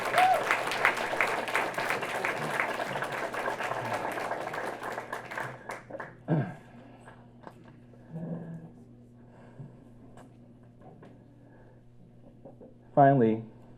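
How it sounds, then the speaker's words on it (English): An audience at a township State of the Township address breaks into a big round of applause. The clapping is dense and loud for about six seconds, then fades into scattered claps and room murmur with a short burst near the end. "Big round of applause for our people."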